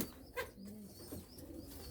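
Pakistani pigeons cooing close by, soft low coos mixed with a brief flutter and light rustling, with no talk.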